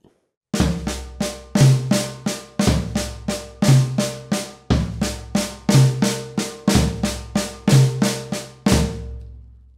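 Tom drums struck in a steady pattern of flam-like double hits, floor tom on the right hand and another tom on the left, loud and close, with resonant booming decays between strokes and no talking.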